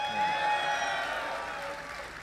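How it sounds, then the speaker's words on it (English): A StarCraft tournament audience cheers and applauds for player Idra, a loud burst of crowd noise that swells early and then gradually tapers off. "Give a cheer if you want Idra to close out the set"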